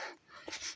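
A dog pants in quick, breathy huffs close by, soft and short.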